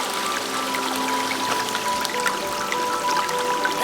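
A brook runs steadily in a wooded setting, its water flowing in a continuous, even rush with small splashes and trickles throughout, close and moderately loud, with no voices.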